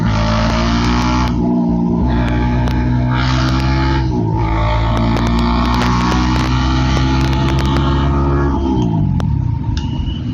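A motorcycle pulls away from a stoplight, engine note climbing through several gear changes, loud and close as if from the rider's seat, with wind and road noise underneath.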